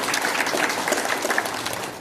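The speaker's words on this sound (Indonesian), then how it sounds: "Tepuk tangan buat diri kita." A group at a morning staff training session for landscape gardening crews claps together, a dense steady burst of applause filling the whole moment with no voices over it.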